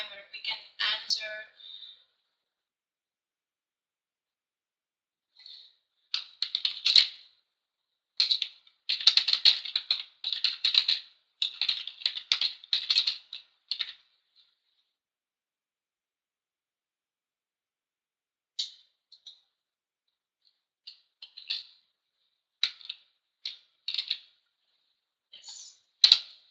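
Someone types a question on a computer keyboard during a hotel management school webinar; bursts of quick clicky keystrokes come in clusters separated by pauses, close and fairly quiet, with no one talking over them.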